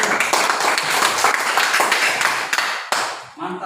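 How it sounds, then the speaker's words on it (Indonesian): A classroom of schoolchildren claps together in a dense, lively burst for about three seconds, then a teacher's voice takes over as the clapping stops. "Tepuk tangan dulu untuk kalian."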